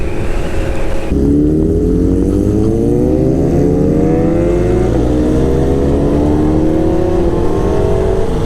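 Superbikes in Mysore rev hard and ride past, a loud, close engine roar that climbs steadily through several gear pulls with rising pitch, no voices over it.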